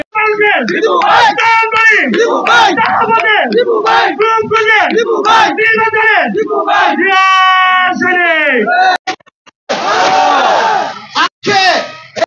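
A huge political procession crowd at a BNP rally in Rupganj, Bangladesh, chants and roars slogans in loud, continuous massed voices with rhythmic shouted bursts, breaking briefly near the end before the yelling resumes.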